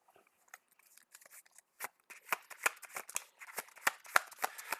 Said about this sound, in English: Sandman's deck is shuffled.